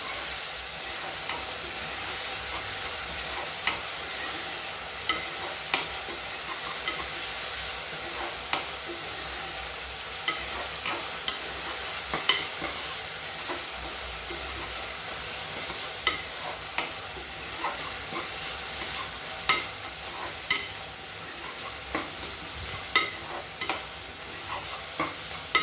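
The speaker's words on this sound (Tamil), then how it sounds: "வெங்காயம் நல்லா வதங்கிச்சு ஃப்ரெண்ட்ஸ்" Onions sautéing steadily in a frying pan for a vegetable kurma, a constant dense sizzle with sharp spoon scrapes and taps recurring every few seconds, no voices.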